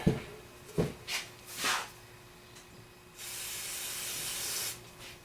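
A few knocks and short hisses, then a sustained aerosol cleaner spray blast lasting over a second into a Suzuki 185 motorcycle's fuel petcock, close by and fairly quiet overall.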